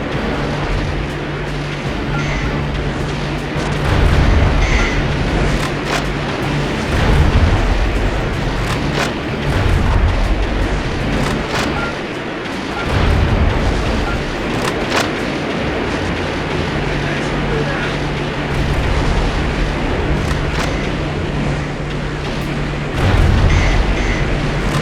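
Missile explosions in Metal Wolf Chaos XD, a sustained barrage of loud booms and blasts with several heavier low thuds spaced through a dense, continuous wall of combat noise.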